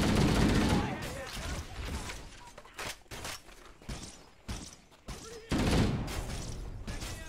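Rapid bursts of gunfire from Halo: Combat Evolved rattle through a busy firefight, with loud clustered volleys separated by brief gaps and continuous game noise; a player speaks over part of it.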